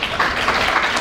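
A dense, steady wash of applause from a large crowd at an entrepreneurs' forum in Guinea, continuous and fairly loud throughout.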